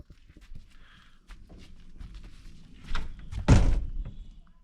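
A wooden door at a natural hot spring pool is pushed shut with a solid thud near the end, preceded by soft shuffling, footsteps and handling noises.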